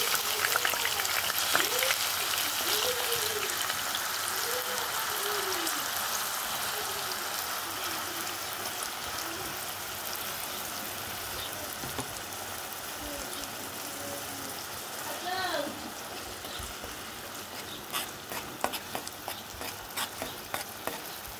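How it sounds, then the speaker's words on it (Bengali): Onion, ginger and garlic paste fries in a pan on a new stove, a continuous hissing sizzle with stirring scrapes that fades slightly, then sharper clatter near the end. "এই পেঁয়াজ আদা রসুন বাটা আমি একসাথে দিছি"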